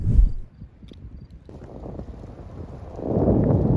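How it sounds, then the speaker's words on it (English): Wind gusting across a coastline golf course, a steady low broadband rush that swells louder toward the end, with a brief thump at the start and no talking. "The wind picking up though."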